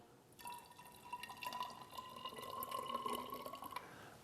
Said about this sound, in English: And in goes our sucrose solution on the other side.